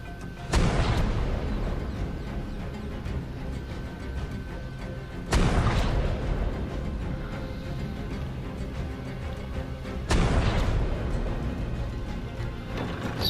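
Cannons firing cannonballs in Ark: Survival Evolved: three heavy booms about five seconds apart, each a sharp, loud blast with a long rumbling decay.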